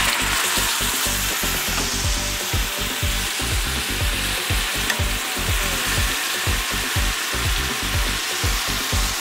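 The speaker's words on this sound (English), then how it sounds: "I'm going to pan fry 2 at a time." Yellowtail snapper fillets pan-frying two at a time in a hot pan, giving a loud, continuous sizzle with crackling oil pops throughout, close and without talk.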